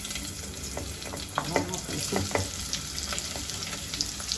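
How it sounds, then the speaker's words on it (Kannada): Chopped onion sizzles in hot oil in a pan, a steady close crackle broken by a few sharper pops and stirring scrapes, with no voices. "ನಾನು ಒಂದು ಈರುಳ್ಳಿ ಕಟ್ ಮಾಡ್ಕೊಂಡಿದ್ದೀನಿ, ಹಾಕೋತಾ ಇದ್ದೀನಿ"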